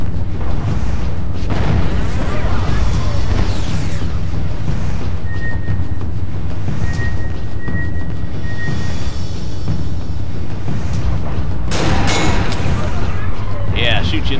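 Gunfire and booming blasts from the game Aliens vs. Predator (2010), marine campaign, run continuously and loud throughout, mixed with game ambience while someone talks over it.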